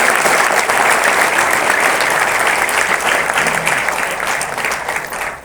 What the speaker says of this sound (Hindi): एक जोरदार तालियां होनी चाहिए उसके लिए